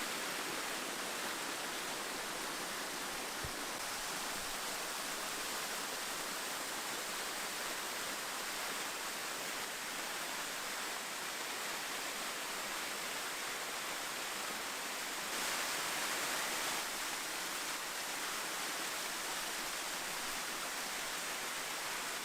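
Steady broadband rush of the Cascades waterfall, a straight-drop fall in a campsite setting, roaring continuously and evenly at close range with no voices.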